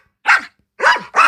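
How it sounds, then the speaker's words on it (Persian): A dog's bark played by a Google search animation: three short, loud, close barks, one alone and then two in quick succession. "صدای سگ"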